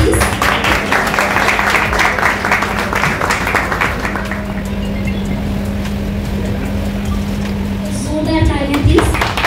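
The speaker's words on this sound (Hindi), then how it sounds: "एक बार जोरदार तालियां प्लीज।" Sustained applause from a crowd at a Chhattisgarhi film launch ceremony, a dense wash of clapping continuing steadily for several seconds, with a background hum underneath.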